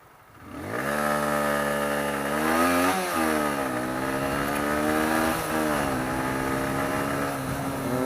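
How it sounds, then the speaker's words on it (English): A Honda CBR125 motorcycle, a 125cc bike carrying a heavy load, accelerates hard from standstill. Its engine winds up loudly and close through several gears, with rising whine and brief dips at each shift. "There's some serious acceleration there."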